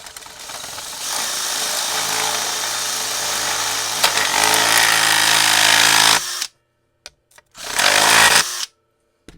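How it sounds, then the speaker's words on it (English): A power drill bores out a hole during model railroad layout wiring work, whining loudly and continuously for about six seconds at close range, then giving a couple of short bursts after a pause. "see if I can't drill the rest of this hole out"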